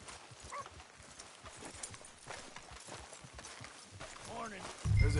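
Horse hooves clip-clop steadily on a street in the video game Red Dead Redemption 2. The footfalls are moderate and rhythmic under background ambience, and someone speaks briefly near the end.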